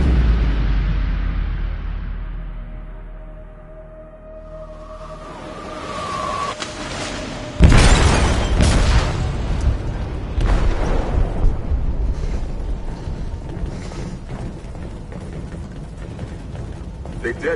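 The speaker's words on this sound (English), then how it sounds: "They detonated an explosive in the hold. The ship is sinking, sir." An explosive goes off in a ship's hold in the video game Detroit: Become Human. After a quieter, rumbling stretch, a sudden heavy boom bursts in, followed by a sustained roaring, crackling rumble with scattered metallic clanks.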